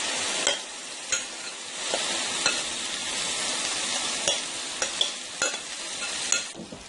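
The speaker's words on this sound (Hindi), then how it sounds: "इसको आप ऑयल में भी फ्राई कर सकते हैं या थोड़ा सा आप बटर यानी कि मक्खन भी डाल सकते हैं।" Chicken malai boti fries in oil or butter in a pan, a steady close hiss punctuated by repeated spoon scrapes and clicks at uneven intervals.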